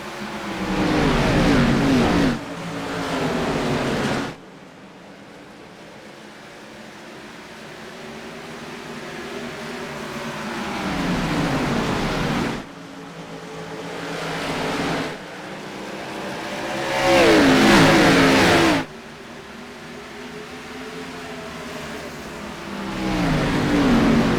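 Simulated race car engines at Richmond in iRacing roar in repeated surges, several cars revving up and fading past, with loud bursts around the start and middle separated by quieter stretches of distant engine drone.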